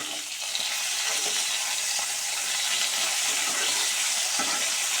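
Fish pieces frying in smoking-hot oil give a steady, dense crackling sizzle that stays loud and close throughout, with small pops scattered through the hiss.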